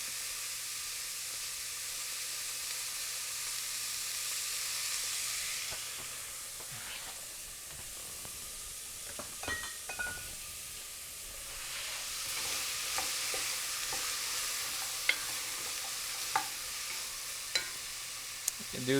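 Vegan gumbo ingredients frying in a little oil in a pan over fairly high heat, a soft continuous hiss of sizzling with occasional light stirring clicks, no talking.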